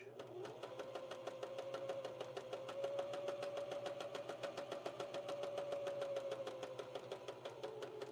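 Sewing machine back stitching on a handmade doll, an even rapid chatter of needle strokes running continuously at moderate volume.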